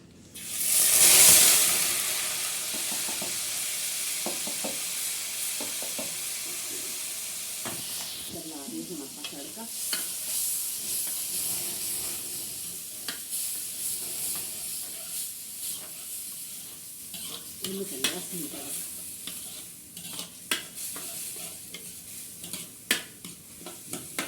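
Spice tempering hits hot oil on a desi stove for a lobia dish, bursting into a loud hiss that settles into a long, steady sizzle, broken by stirring scrapes and clinks of a pot.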